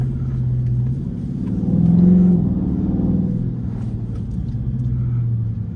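A Dodge Charger Scat Pack with a mid muffler delete rumbles loudly from the cabin, a deep steady drone that swells briefly as it revs up and then eases back to a cruising growl.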